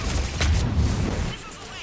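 Missile launch in a Mass Effect cutscene, a deep rumbling boom that rolls for about a second and then fades, with a voice speaking over it.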